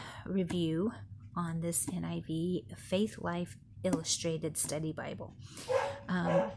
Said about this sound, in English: She is just barking at God knows what.